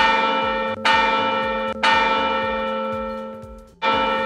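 A bell, newly placed and hanging properly, rings three times with clear metallic strikes, each one sustaining a long shimmering ring that slowly decays before the next hit, with no talk.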